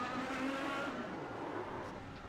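Race car engines in a racing simulation at Lime Rock Park make a continuous, moderately loud mechanical drone that shifts in pitch, heard alone without talk.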